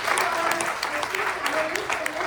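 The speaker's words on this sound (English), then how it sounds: "let's give a big round of applause" An audience at a women's day entrepreneur panel gives the panelists a round of applause, dense clapping sustained at moderate volume while voices talk over it.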